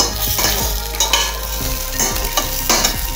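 French toast made from dipped bread frying in a pan, a steady close sizzle with scraping and stirring clicks from a utensil throughout.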